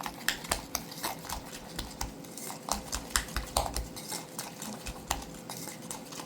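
A spoon is pressed through butter in a bowl for eggless custard cookie dough, making quick, irregular clinks and scrapes against the bowl. The strokes are close and fairly quiet.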